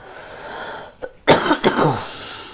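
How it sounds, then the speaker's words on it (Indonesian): A person coughs a few times in a short burst, close by, after a faint throat sound, over a quiet room hiss. "Maaf ya agak sedikit batuk."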